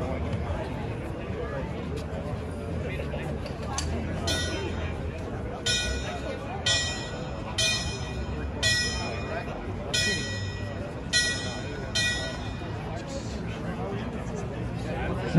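A fire truck bell clangs about seven times at a steady, deliberate pace over the murmur of a crowd talking at a fire rescue push-back ceremony.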